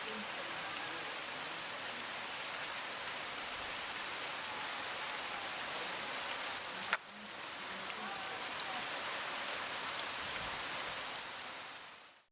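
Heavy rain pours steadily as a dense, even hiss close by, continuous throughout with one brief knock partway through and no voices.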